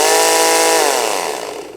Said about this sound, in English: Now here, this is the chopper. Let's give this a try.